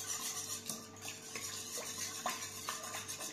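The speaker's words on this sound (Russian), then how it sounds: "Сюда мы вливаем яйца, хорошенько все размешиваем." Utensil stirring eggs into a yeast dough mixture in a bowl, with a series of soft scraping and clinking strokes at an irregular rhythm, close and fairly quiet.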